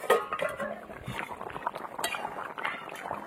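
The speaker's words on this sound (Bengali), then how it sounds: "ঢাকনা খুলবো এবার।" Metal lid lifted off a cooking pot of vegetables and beans simmering on the stove, with a few light clinks and rattles amid kitchen background noise.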